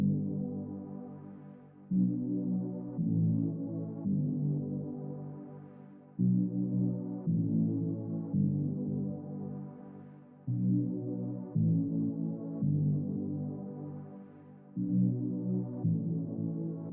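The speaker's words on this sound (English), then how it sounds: "And that sound is a pad from GMS." A sustained synth pad preset from the GMS plugin, used in a pop production, swells through repeated chords with soft attacks, steady and full in the low-mid range, playing alone.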